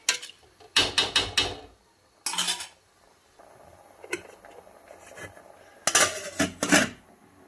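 A metal lid clatters and rattles onto a pot of pea rice in several sharp bursts of clanking, with quieter gaps and a faint low hiss of the flame between.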